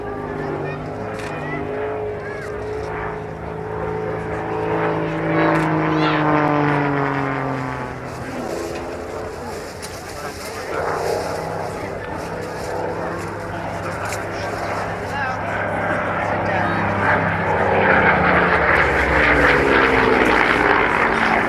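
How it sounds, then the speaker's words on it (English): A training aircraft performs a stall turn at the Halton Air Show. Its propeller engine drones loudly and slides down in pitch, then climbs again as the plane pulls out. A commentator talks over it throughout. "The thing with training aircraft is they tend to be underpowered, so you have to make use of the energy that the airframe develops."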